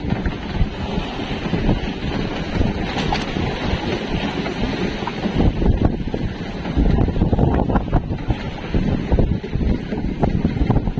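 Gusty wind roars across the microphone in uneven bursts, mixed with the splash of water and the creak of a small fishing boat at sea.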